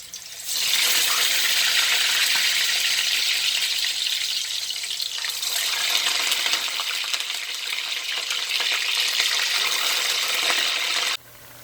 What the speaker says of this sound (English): flip it, let it continue frying